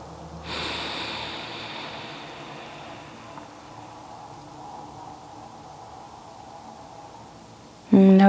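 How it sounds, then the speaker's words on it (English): A single long, breathy exhale during a meditation session rises sharply, then fades slowly into quiet room noise, ending with a brief louder sound. "Letting the belly expand and then crash back down every exhale."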